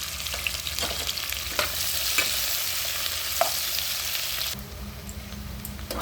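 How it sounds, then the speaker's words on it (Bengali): Onions frying in hot oil left from frying eggs for an egg curry, a dense continuous sizzle with occasional spatula clicks, settling slightly quieter toward the end. "এবার এই তেলেতে পেঁয়াজ দিয়ে দেব। পেঁয়াজগুলো লাল হয়ে যাবে"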